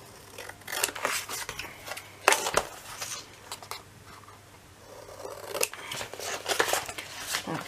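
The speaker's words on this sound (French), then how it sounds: "Je découpe mes 4 angles." Scissors snip the corners of 2 mm cardboard in a series of close, crisp cuts, with short pauses between bursts of snipping.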